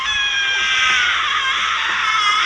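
Eerie, high-pitched wailing screams hold steady and loud without a break in a Thomas & Friends episode.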